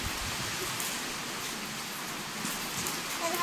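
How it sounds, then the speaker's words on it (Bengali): Steady rain pours down during a strong, gusting wind at home, forming a continuous broadband hiss that stays even and moderately faint throughout, with no voices. "বৃষ্টি হচ্ছে বলে কত জোরে জোরে হাওয়া দিচ্ছে"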